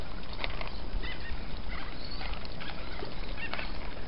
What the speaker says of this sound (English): Chooks love slugs and snails.